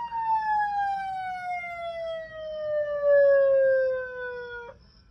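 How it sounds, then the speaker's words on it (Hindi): An aftermarket electronic siren fitted to a 2022 Mahindra Thar wails in one long, slowly falling tone, loud and close, cutting off sharply near the end. "अब ये मैंने सायरन दबाया, ये देखो सायरन पे आएगी ऐसी"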